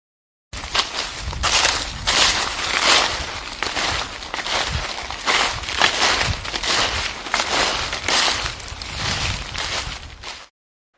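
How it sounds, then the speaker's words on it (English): Footsteps crunching through leaves, a steady run of rustling, crushing steps heard alone and fairly close for about ten seconds as a sound quiz item. "walking on leaves."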